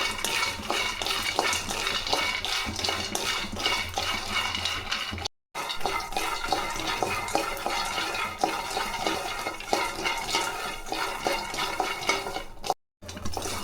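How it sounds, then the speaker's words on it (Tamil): Peanuts are dry roasted in a pan, a continuous dry rattling and scraping of nuts stirred against metal, close and steady with two brief silent gaps. "250 கிராம் கடலக்காய் கொட்டை, இதையும் நம்ம வறுத்து எடுத்துக்கலாம்"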